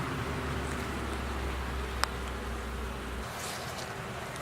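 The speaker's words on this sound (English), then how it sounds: "You have to be very careful not to squish any bees." A steady hum of many bees buzzing close by, with one brief tap partway through.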